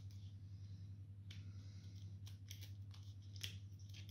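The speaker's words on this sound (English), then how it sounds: "you can just trim the excess tape off the ends here using your scissors" Scissors snipping off excess tape at the ends of paper wrapped around a pen, a few faint crisp cuts close by over a steady low hum.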